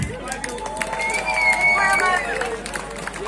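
Concert crowd clapping and cheering for a garage orchestra at an evening show, sustained applause with voices and a whistle-like tone over it.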